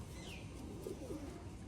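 Faint, soft cooing from a female pigeon held in the hand, a low murmur close by over a steady background hum.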